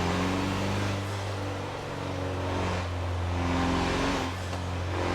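Mazda race car engine at Daytona International Raceway in the Forza Motorsport 7 video game, droning steadily at high revs with a few dips and surges as gears shift, continuous and loud with no talk.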